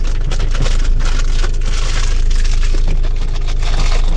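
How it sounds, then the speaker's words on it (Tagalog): Heavy rain pours down in a dense, steady roar, drumming hard on surfaces with no pauses or voices. "Hindi na lakas ng ulan, ang hirap makakita."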